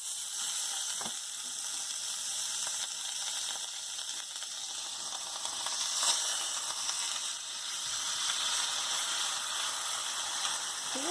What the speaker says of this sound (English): now I'm going to put it on the tawa or the pan